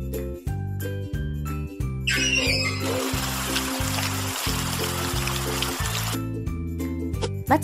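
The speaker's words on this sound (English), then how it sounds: "Let's water the seeds." Water pouring from a watering can onto planted seeds in a children's flower-and-fruit planting game, a steady trickling splash lasting a few seconds over a looping bouncy tune.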